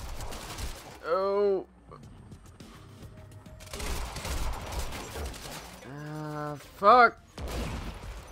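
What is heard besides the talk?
gunfire from the video game Quantum Break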